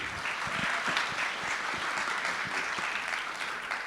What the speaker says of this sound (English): Can we give a round of applause to invite Jupe up on stage